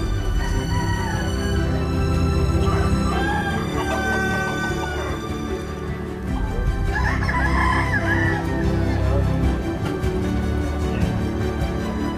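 Several roosters crow one after another, close by in Bali, with clucking from other fowl scattered between the calls.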